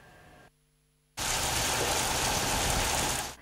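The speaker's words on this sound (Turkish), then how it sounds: "Bir anda bastıran dolu yağışı cadde ve sokakları beyaza bürürken" Hail pouring down on city streets in Elazığ in the evening, a dense, loud, steady hiss of pelting ice after a brief quiet moment, continuing for a few seconds before fading slightly.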